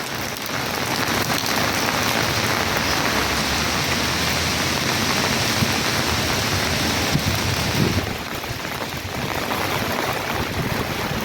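Steady, heavy rain pattering loudly and continuously on a nearby umbrella, with no voices.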